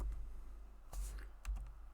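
Keys tapped on a computer keyboard while entering JavaScript array code, a few quiet, scattered clicks with two slightly stronger strokes, close and faint with no talking.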